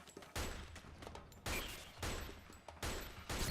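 Bursts of gunfire in the video game Metal Gear Online 2, with several dense volleys of shots in quick succession that sound fairly faint and distant.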